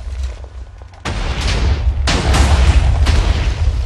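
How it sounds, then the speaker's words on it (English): Huge chain of TNT explosions in Minecraft, a dense rolling barrage of loud booms and bursts overlapping continuously, with sharp new blasts erupting roughly every second. "Oh my god, so many explosions."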